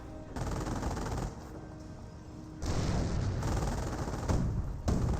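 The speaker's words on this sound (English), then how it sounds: "Ooh, great landmine detonation there." Heavy rolling blasts and bursts of gunfire in the Company of Heroes strategy game, a landmine detonation among loud, dense explosions in several surges that swell and drop over a few seconds.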